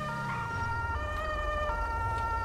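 Ambulance siren in the video game GTA V wails steadily with rising and falling tones over a constant low engine rumble, loud and continuous throughout.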